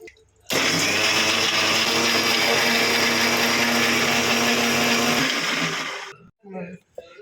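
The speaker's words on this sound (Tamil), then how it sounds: "இப்போ இதை நைஸாக அரைச்சிக்கலாம்" A mixer grinder grinds greens with green chili and salt, a loud, steady high-pitched whir that starts abruptly, runs for about five seconds, then winds down, followed by a few brief knocks.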